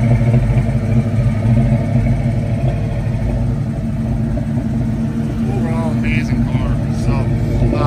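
A 1968 Mercury Cougar with a 289ci V8 and four-speed runs at a steady, loud, close rumble, with a voice talking over the engine throughout.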